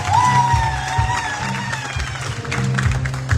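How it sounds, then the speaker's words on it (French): Audience clapping and light cheering at an RFI prize award ceremony in a Guinean cultural centre, a steady, dense crowd applause filling the room, with a voice audible over it. "Applaudissez pour eux."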